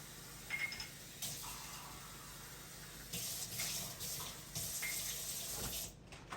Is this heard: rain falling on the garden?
no